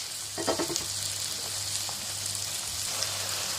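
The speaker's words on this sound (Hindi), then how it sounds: "ये हमारा जो चिकन है इसको मुझे 3 to 4 मिनट्स हो गए हैं फ्राई करते हुए" Chicken pieces frying in a pan for tandoori pasta: a continuous hissing sizzle with a few brief stirring taps early on, moderately close and without speech.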